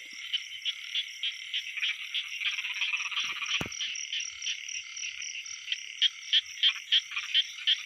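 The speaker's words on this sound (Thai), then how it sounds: "เสียงเขียดห้อง" A chorus of khiat hong frogs croaks steadily at night in rice fields, dense overlapping calls with a sharp rhythmic pulse growing louder toward the end, with no talking.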